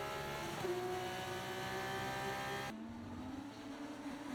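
A Formula 2 race car in F1 24 runs flat out down a straight, its engine a steady, fairly quiet whine that climbs in pitch through the gears.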